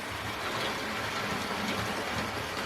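A Hornby Caerphilly Castle model locomotive runs on track with a steady, fairly faint whirring motor hum and light rolling rattle, with no talk over it.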